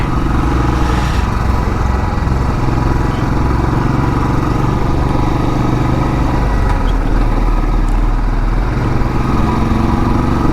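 A motorcycle engine accelerates to overtake on a road through the Buxwaha forest, a steady, loud, close mid-pitched drone that holds throughout with no talk over it.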